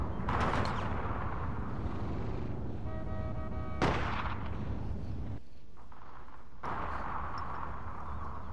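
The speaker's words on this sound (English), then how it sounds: "Okay, I'm being shot everywhere." Gunfire and artillery-like blasts from the online shooter APB Reloaded, with dense rumbling shots, a sharp crack near the middle, a brief lull and then more firing.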